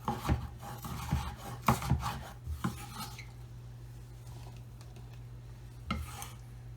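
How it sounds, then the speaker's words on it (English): A knife chops peppers on a board in a home kitchen, giving a few irregular knocks close by, then a pause and one more tap over a steady background hum. "Chop up some peppers."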